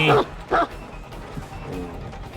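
A dog in a video game gives two short barks in quick succession, fairly loud, followed by a softer whimpering yip over low background noise.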